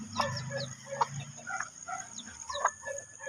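Chickens, including a Rhode Island, cluck softly nearby while newly hatched chicks peep in short, high chirps, with an electrical hum in the background.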